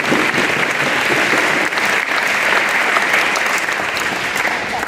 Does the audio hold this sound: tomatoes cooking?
no